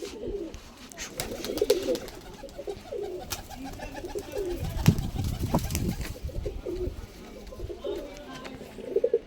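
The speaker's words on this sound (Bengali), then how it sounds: "এটা গিরিবাজ পায়রা কালসিরার মধ্যে" Giribaz pigeons of the Kalsira variety coo in soft, low, repeated bursts at close range, with faint chirps and rustling around them.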